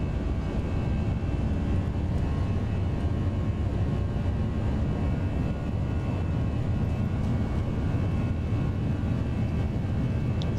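Airbus A320 jet engines spooling at takeoff power in the X-Plane 11 flight simulator, a steady, loud, broadband roar that holds evenly throughout with no talk over it.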